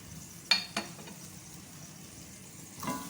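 Spices stirred into mutton korma in a pot: a couple of sharp scrapes early on, then a quiet sizzle and a brief rustle of mixing near the end, with no talk.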